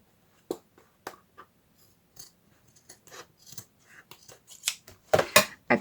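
Scissors cut off the bottom of a paper folio, making a series of short snips and crisp paper cuts that speed up and grow louder toward the end, with no talk.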